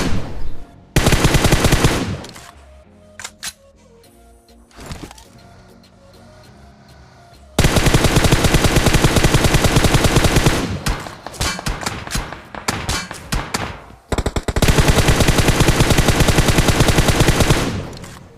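Automatic gunfire in PUBG Mobile aimed at two players fighting in smoke, loud close bursts of rapid shots that start and stop, with quieter gaps of distant shots and clanks between them.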